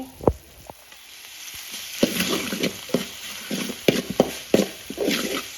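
Squid stir-frying in a hot pan with basil, a continuous sizzle broken by sharp scraping and clacking strokes of the spatula at an uneven rhythm, close and fairly loud, with no talking.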